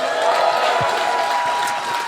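Scattered clapping from an audience, moderately loud and steady, fading slightly by the end.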